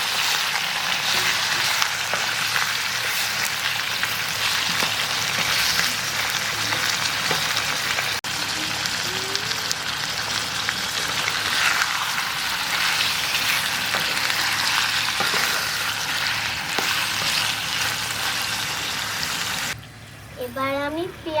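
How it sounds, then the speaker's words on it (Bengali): Chicken pieces frying and being stirred in a pan for masala chicken, a steady close sizzle running throughout with occasional clinks of a spatula, then dropping off near the end. "এবার আমি নেড়ে নেবো।"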